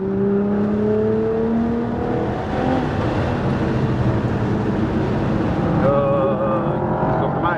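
Nissan GT-R R35 accelerating on a race track, a steady loud engine roar with rising tones as it builds speed, with an instructor's voice coaching over it.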